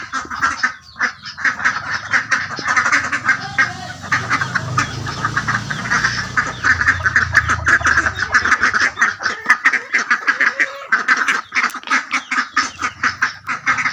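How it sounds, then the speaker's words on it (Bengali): Domestic ducks quack loudly and close by. A flock keeps up a busy, rhythmic stream of repeated quacks the whole time, thickening into a dense chorus in the middle. "ওই যে দেখেন আমার হাঁস হাঁস দেখছেন না"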